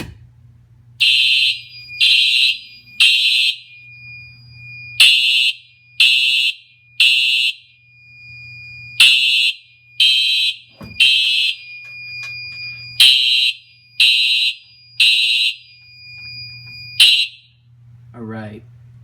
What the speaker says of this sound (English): the alarm is doing code 3 in the horn and the strobe